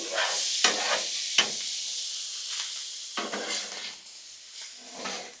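Shrimp and vegetables for fried rice sizzling on a Blackstone griddle, a steady hiss broken by several sharp spatula scrapes and clacks as the food is tossed.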